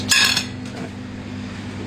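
A short clatter of plates and cutlery being cleared from a table, one sharp clinking burst at the start followed by a faint ringing and a low steady hum.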